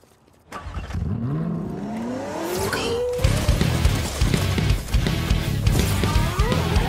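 McLaren sports car in Free Fire: silence gives way to an engine revving up through rising gear sweeps, then loud continuous driving with tire squeals and bumps.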